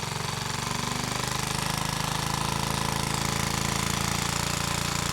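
Small engine on a restored Junior Chief machine held at full throttle, a steady, loud, rapid mechanical chatter that runs without a break and without any talk.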